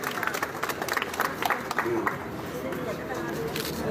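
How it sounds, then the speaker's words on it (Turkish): Applause for the mayor breaks out among a crowd, scattered claps mixed with murmuring voices and talk, moderately loud and uneven, fading toward a calmer babble. "Bir alkışlayın başkanım"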